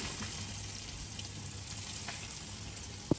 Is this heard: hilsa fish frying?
yes